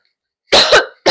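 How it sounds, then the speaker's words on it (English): A sudden fit of harsh coughing, three loud bursts close to the microphone with a short gap before the last, no talking. "had to pause there because I had just a massive coughing fit"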